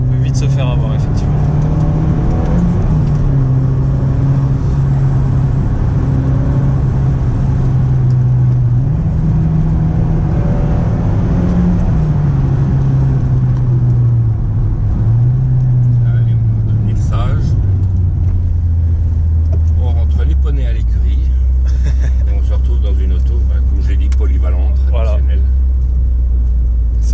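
Volkswagen Golf 1 GTI engine hums steadily from inside the car while driving, its drone rising and falling with revs before settling lower, with French conversation going on throughout.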